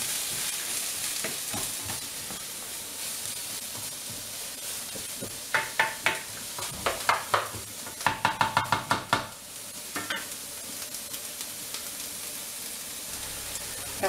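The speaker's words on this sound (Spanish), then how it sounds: "Aquí echamos lo que es la cebolla picada, los dos ajos" Chopped onion and garlic fry in a pan with a constant soft sizzle, broken midway by a run of sharp rapid knocks and taps of a utensil against the pan, then the quiet frying continues alone.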